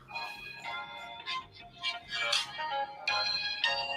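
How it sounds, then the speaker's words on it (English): A phone rings nearby with a melodic electronic ringtone, bright chiming notes arriving in several short repeated bursts at moderate volume against a quiet room. "You got the phone going?"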